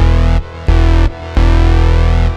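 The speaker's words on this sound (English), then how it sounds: "just like a 80s synth sound with reverb and delay" A bright, buzzy 80s-style synth bass preset plays sustained notes with brief gaps, each stop leaving a soft echoing reverb and delay tail before the next loud note.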